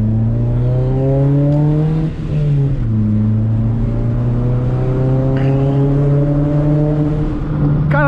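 A Chevrolet Celta engine revs up and down repeatedly at close range, loud rising and falling strains with short dips between pulls and no talk.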